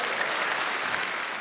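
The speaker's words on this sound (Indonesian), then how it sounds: "tepuk tangan untuk BNN" Audience applause at a televised stand-up comedy show, a dense steady wash of clapping from a studio crowd, loud and continuous through the short burst with no talk over it.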